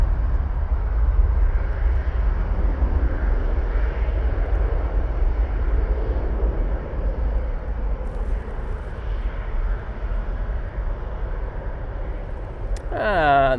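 A Ryanair jet airliner powers away on takeoff, its deep, steady engine rumble continuing at a constant level before a voice briefly cuts in near the end.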